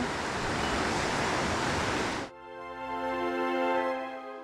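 A river flowing in Yoho National Park makes a steady, dense rushing hiss for about two seconds, then cuts off abruptly to a sustained tonal hum.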